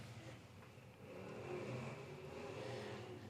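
IMCA race cars launch at the green flag of a first heat race at Golden Triangle Raceway Park, a dense roar of engines building steadily and staying loud throughout.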